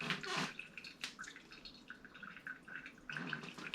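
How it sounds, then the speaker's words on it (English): Water is poured steadily through a coffee filter, a faint, close trickle and splash with a few louder gushes at the start and end. "keeping the water flowing through the filter with a consistent pour"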